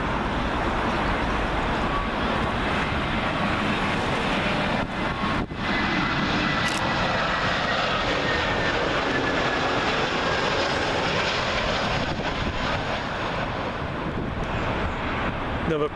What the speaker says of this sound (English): Up next, Lufthansa's A320neo Lufthansa livery, arriving in from Frankfurt